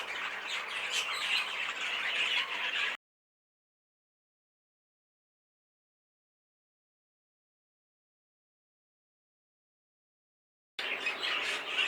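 Canaries call from a show cage, a buff heavily variegated bird among them, giving busy squawks and chirps that stop abruptly into a long silence and then resume briefly at the end.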